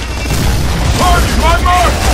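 Grenade explosions in a shooter video game roll out as loud, continuous deep booming and rumbling, with players' voices talking over the blasts.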